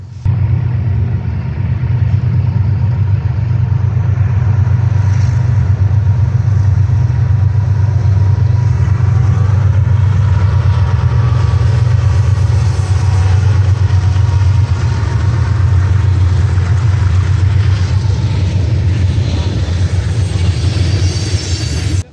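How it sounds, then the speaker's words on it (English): Freight trains roll past a trackside spot in Ohio, a loud, continuous heavy rumble and grinding of wagons on rails that holds steady for over twenty seconds without a break. "All these trains rolled by right before the eclipse started."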